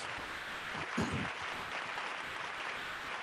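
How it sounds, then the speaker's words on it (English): An online virtual-event audience gives a round of applause, a faint, distant wash of clapping, slightly uneven, with a brief louder bump near the middle. "Let's give that feature a big round of applause."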